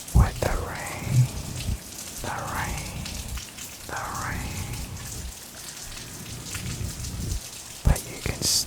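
Steady rain falls and patters on a surface, a soft continuous wash close by, with gentle whispering and soft brushing sounds over it.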